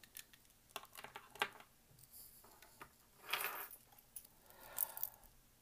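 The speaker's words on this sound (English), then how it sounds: "So the next item that I have are going to be my car keys." Car keys jangling and clinking, several short bright metallic rattles spread over a few seconds, quiet and close, with no talk.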